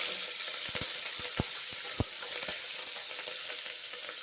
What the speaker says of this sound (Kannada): ಈಗ ಸಾಸಿವೆ ಚಿಟಪಟ ಅಂತ ಇದೆ.